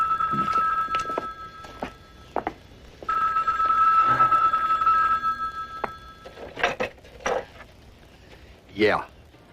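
An old telephone bell rings in repeated long trills, loud and close, broken by voices talking between the rings.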